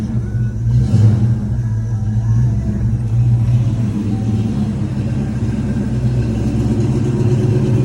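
A Ford Mustang GT Fox Body with a running issue and a new high-flow exhaust idles with a steady, loud, close engine rumble throughout, with a slight rise in revs near the start.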